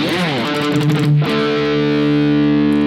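Heavily distorted electric guitar through a Marshall JVM410H amp in red mode with the gain cranked plays a short, aggressive phrase, then a loud sustained chord rings out thick and saturated.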